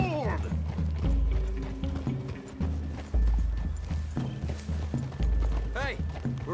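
Horse hooves clip-clop in the Red Dead Redemption 2 video game on PC, a steady rhythmic trot with a whinny near the end, under game music and a voice talking.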